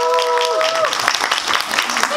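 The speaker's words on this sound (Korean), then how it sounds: "박수를 좀 드리고 싶네요" An audience claps at a film screening talk, a short burst of brisk, scattered applause heard close, with a few tonal sounds at the start and voices under it.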